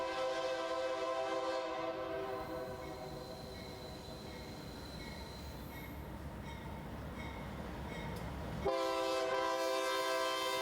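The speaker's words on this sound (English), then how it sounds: "Here we have another Santa Fe War Bonnet, number 660, leading NS-211 through Thoroughfare and Beverly's Mill" A Santa Fe War Bonnet locomotive, number 660, leads Norfolk Southern freight 211 past, its horn blaring in long sustained tones over the rumble of rolling cars, loud and near.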